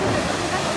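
Water crashing from the Le Grand Splash boat ride at Parc Astérix, a brief, dense, loud rush of splashing water.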